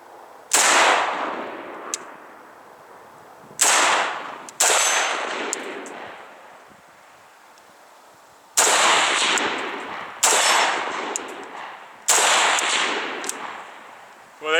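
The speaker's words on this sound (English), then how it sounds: "I was shooting at about 50 yards, able to get 2 out of 4 hits offhand" Gunshots from a Micro Draco Romanian AK-47 pistol fired outdoors at about 50 yards, five loud sharp single reports spaced a few seconds apart, each trailing off in a long echo.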